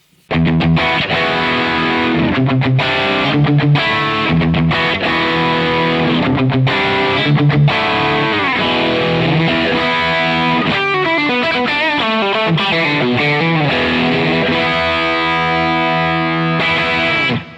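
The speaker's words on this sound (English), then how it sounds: "It's kind of glassy, chimey, AC 30 tones with a little bit more breakup" Overdriven electric guitar through an AC30-style amp tone, chimey and glassy, breaking up into light grit, strummed chords and picked notes played continuously and loudly, no voices.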